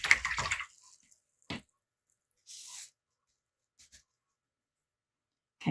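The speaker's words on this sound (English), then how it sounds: "I'm going to rinse my brush." A watercolor paintbrush is swished and rinsed in a water container, giving a short burst of soft splashing and sloshing followed by a few faint isolated drips and taps in near silence.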